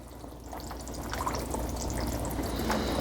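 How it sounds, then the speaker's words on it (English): A spoon stirs ingredients into a pot of old-fashioned goulash, giving a continuous wet, sloshing scrape close by with no talking. "Now we can go ahead and stir that in."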